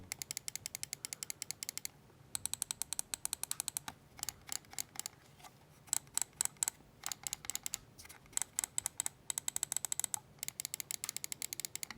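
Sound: computer mouse button clicks

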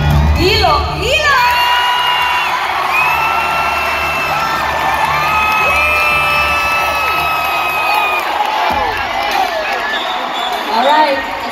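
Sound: crowd cheering at Miss Universe Philippines pageant

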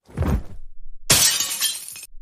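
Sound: something breaking, glass shattering

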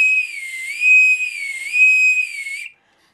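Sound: whistle bent back and forth while blowing into it

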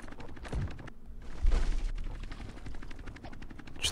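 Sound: projectiles being fired in the video game The Catapult 2

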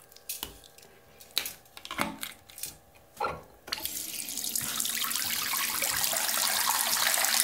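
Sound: cold tap filling a sink with water

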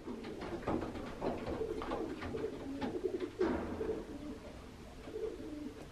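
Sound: racing pigeon cock cooing in a box

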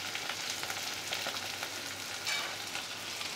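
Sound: frying chopped tomato with onions in a pan

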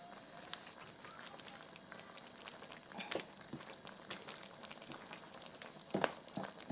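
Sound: giant prawns boiling in ketchup sauce

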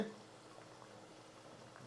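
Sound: chicken thokku boiling in pan

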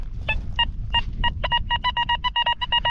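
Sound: metal detector signal tone

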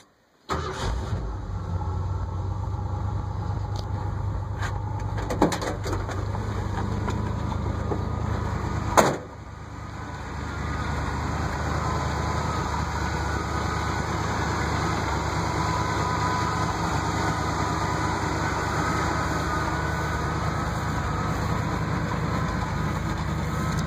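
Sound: 1975 Ford pickup engine running with blown muffler

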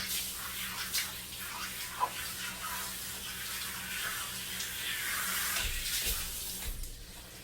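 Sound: pressurised water spraying through a dog's fur during a bath

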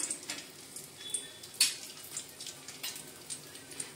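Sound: curry leaves sizzling as they fry in a pan

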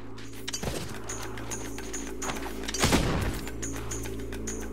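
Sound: gunfire in the video game Fable II

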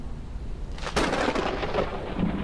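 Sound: thunderstorm in video game Forever Skies

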